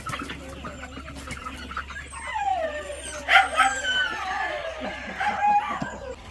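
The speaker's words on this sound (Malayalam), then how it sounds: "നമ്മുടെ പുതിയ VV380 കോഴി." VV380 breed chickens clucking and calling nearby in short, uneven bursts, mixed with other animal noises and occasional quiet background voices.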